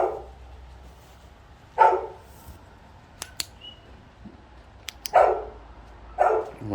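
A dog barks in short bursts at an old fort-like house, four separate barks spaced apart at moderate distance, with a few sharp clicks between them and quiet surroundings otherwise.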